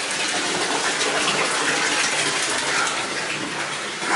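Water gushing from a tap into a bathtub being filled ahead of a hurricane, a constant loud rushing splash with no pauses and no talk.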